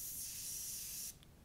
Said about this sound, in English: I'll spray it on the soldiers and see how it's looking